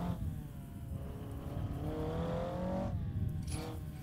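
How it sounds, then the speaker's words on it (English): A Peugeot car engine in the racing game Assetto Corsa, on the Usui Pass touge road, revs and climbs steadily in pitch. It drops briefly on a gear change, then rises again, loud and close, with no talk. "Let's listen to that lovely sound of the Peugeot."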